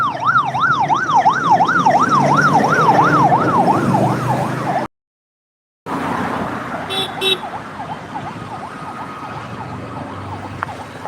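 An ambulance siren wails nearby in a loud, fast, rising-and-falling yelp over steady traffic rumble, cuts out briefly, then returns fainter and more distant.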